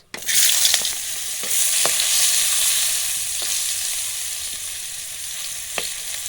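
Chopped onion dropped into reused frying oil in a pan, bursting into a sudden bright sizzle that settles into a steady hiss, with a few sharp spatula scrapes and clicks scattered through, close and without speech.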